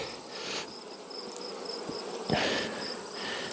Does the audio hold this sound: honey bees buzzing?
yes